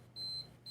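Timer beeps twice, two high, thin electronic tones, the first held longer than the second, faint over quiet room noise.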